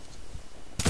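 A rank of musketeers in Mount & Blade: Warband fires a volley, a sudden loud burst of gunfire that erupts near the end after a stretch of quiet.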